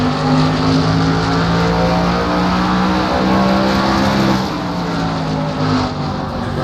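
A pack of stock cars races at Richmond, a loud continuous roar of several engines at speed with sustained droning tones that shift slightly as the cars pass, and no voices.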